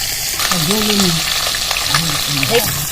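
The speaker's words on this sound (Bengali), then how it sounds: "এই মাছ কিন্তু তেলে দিলে সাবধানে ভাজা করবা কেননা পুড়ে মরবা ভবক ভবক করে বোম ফুটে" Live singi catfish fry in hot oil with a steady loud sizzle and crackle, and a low voice murmurs underneath.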